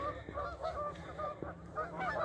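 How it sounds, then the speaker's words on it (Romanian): A flock of geese honks noisily and repeatedly, overlapping calls at moderate distance with no voices. "O grămadă de gâște gălăgioase"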